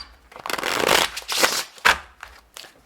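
A deck of tarot cards shuffled by hand: several quick riffling, rustling bursts close to the microphone, separated by short pauses.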